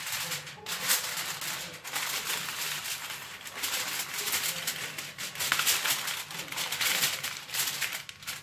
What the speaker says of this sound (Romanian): luăm folie de argint și acoperim